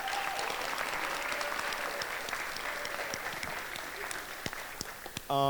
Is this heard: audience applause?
yes